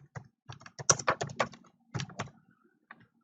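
Quick bursts of keystrokes on a computer keyboard as a payee name is entered in accounting software, close, crisp clicks in an uneven rhythm with brief pauses, alone in a quiet room.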